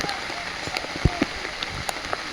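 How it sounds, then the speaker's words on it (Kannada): Heavy rain near a waterfall, a steady hiss of falling water with scattered closer drops and taps striking an umbrella or surfaces in irregular bursts. "ಸಿಕ್ಕಾಪಟ್ಟೆ ಮಳೆ ಬರ್ತಾ ಇದೆ"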